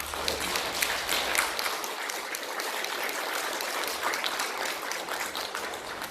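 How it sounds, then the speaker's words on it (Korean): Congregation applauding during a Korean Sunday church service, a steady, dense round of hand clapping throughout, without speech over it. "사모님 사랑한다는 표현을 우리 박수로"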